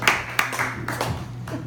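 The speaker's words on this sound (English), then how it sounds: "Give him a big round of applause." A comedy club crowd claps as a comedian walks on stage, a few sharp claps standing out over thinner scattered clapping, with a steady low hum underneath.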